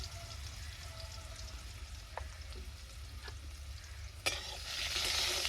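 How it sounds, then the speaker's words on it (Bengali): Quiet sizzling of potatoes with turmeric and salt in hot oil over a low hum, with a few sharp clicks and taps, the hiss swelling louder toward the end. "তেলটা গরম হয়ে গেছে এবারে আমি আলুটা দিয়ে দেবো"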